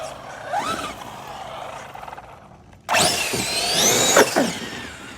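A Tekno RC car on Powerhobby 3.8 belted sand paddle tires, geared for about 45 mph, revs hard on sand: a faint whine early, then a loud rising, sweeping motor scream from roughly three seconds onward.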